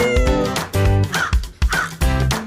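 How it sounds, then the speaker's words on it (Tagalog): A pet cat meows repeatedly in loud, close, drawn-out cries during feeding time, several insistent calls in quick succession with no speech. "Tapos yun naman yung isa naming pusa, si Blue Eyes, si Suman."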